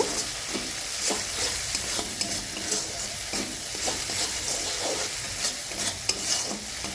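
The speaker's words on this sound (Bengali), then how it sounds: "এবার মশলাটা আমি কিছুক্ষণ একটু কষিয়ে নেব" Spice masala with turmeric and salt frying in a pan, a dense continuous sizzle with repeated scraping stirs at a steady rhythm, close and alone without talk.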